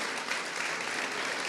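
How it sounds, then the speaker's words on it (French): Steady audience applause at an automotive industry awards ceremony, a continuous, fairly loud hiss of many hands clapping with no break or voices. "Damien, on peut l'applaudir."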